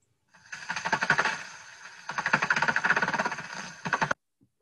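Rapid-fire echolocation clicks of a Daubenton's water bat on a heterodyne detector, a fast dry crackling stream in two bursts separated by a brief lull, modest in level and alone.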